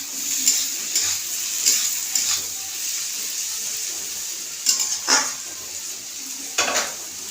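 Tomatoes go into a sizzling pan for pasta and are stirred, giving a steady hiss with repeated scraping and clattering strokes of the utensil against the pan.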